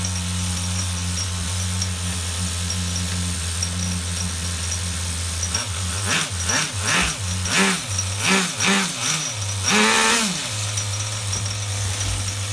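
An HPI RS4 Nitro F150 RC car's nitro engine runs at a steady buzzing idle, then several quick throttle blips rise and fall in a row before it settles back to idle, loud and close with no talking.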